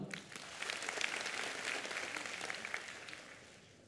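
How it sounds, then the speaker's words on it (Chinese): Audience applause at a Hong Kong stand-up comedy show, a few seconds of dense clapping from a large crowd, rising quickly and then tapering off gradually. "聽過嘅又拍拍手"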